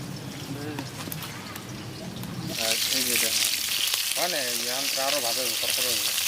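Fried bata fish crackles in oil, the sizzle swelling louder partway through as someone talks over it at close range.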